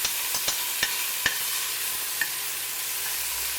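Garlic and onions cook in a pan with a steady, even sizzle, broken by a few light clicks of stirring, close up and without talk.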